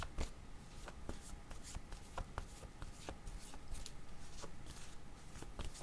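Tarot cards being shuffled by hand to draw a card, a soft continuous riffle of papery flicks and taps close up, quiet and steady throughout with no talking.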